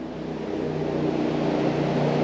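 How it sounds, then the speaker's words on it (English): A Harley-Davidson motorcycle engine rumbles steadily with a low, throbbing idle-like drone, growing slightly louder as it passes nearby. "That's a motorcycle. That's a Harley."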